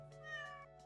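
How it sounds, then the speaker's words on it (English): A cat gives a single brief, faint meow, a short rising-and-falling call heard close and alone in a quiet room. "Oh, there's the cat."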